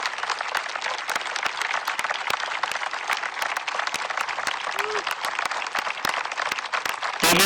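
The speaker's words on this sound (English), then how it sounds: "I'd like the graduates and parents to give a round of applause to our faculty" A high school graduation crowd of graduates and parents applauding the faculty outdoors on a sunny day, broad steady clapping from a large audience with sharp sporadic louder claps standing out near the microphone.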